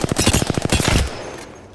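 Rapid automatic gunfire from a weapon in the Apex Legends video game: a dense burst of shots for about a second, loud and close, then cutting off into a fading tail.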